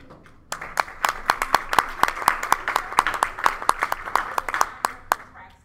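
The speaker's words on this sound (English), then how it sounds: "will you please give our graduate of 2025, Jaden Stevens, a big round of applause" A small group at a county board of education meeting claps for a graduating student. Sharp, distinct individual claps start sparse, build into an uneven, moderately loud patter and thin out again.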